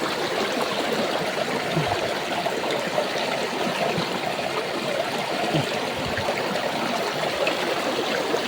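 A shallow creek flows and trickles steadily at close range, a continuous babbling rush with small gurgles and no voices.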